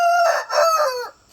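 A rooster crows one long, loud, close call over the clucking of chickens on a small homestead raising meat birds, with no voices present.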